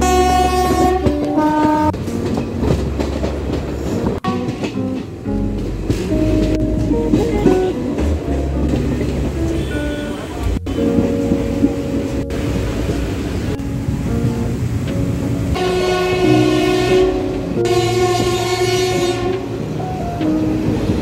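A passenger train in India running toward Patna Junction, with loud continuous rumble and rattling wheels, overlaid by repeated long blasts of a harmonic train horn that rise and fall throughout.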